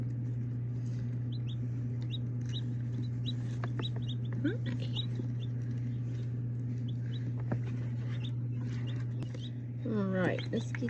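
Newly hatched chicks peep in short, high, repeated chirps over a steady incubator hum, close and fairly faint, with a quick burst of louder peeps near the end.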